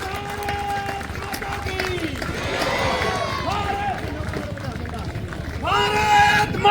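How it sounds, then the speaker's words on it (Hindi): Crowd at a welcome event in a village for a newly sworn-in Chief Justice, with applause and cheering rising and swelling into a loud burst, under an announcer's amplified voice and crowd babble. "जोरदार तालियां इनके लिए स्वागत है"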